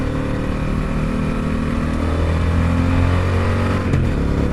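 A motorcycle rolls on the throttle out of a corner, its engine holding a loud, close, steady drone with a slight rise in pitch, mixed with wind rush and no talking.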